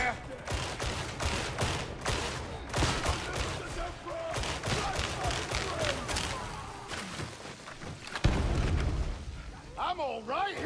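Battle noise in Warhammer 40k Darktide, with rapid gunfire crackling throughout and a heavy thudding grenade blast near the end, loud and close, with voices talking over the fighting.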